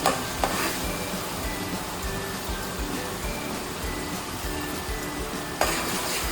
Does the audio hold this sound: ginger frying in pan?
yes